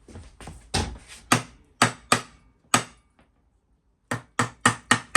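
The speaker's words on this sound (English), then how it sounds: "Let me go get a rubber hammer and give it a tap tap." A rubber hammer strikes a Harley Sportster motorcycle part in a home garage, about a dozen sharp, dull knocks in two bursts separated by a short pause, close and distinct with no talking.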